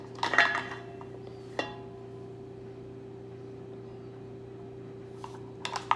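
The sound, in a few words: teaspoon clinking while measuring salt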